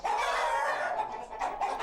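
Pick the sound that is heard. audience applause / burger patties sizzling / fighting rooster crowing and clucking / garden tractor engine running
fighting rooster crowing and clucking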